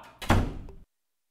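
A door shuts with a single solid thunk, fairly close and loud, with a short rumble trailing off before silence.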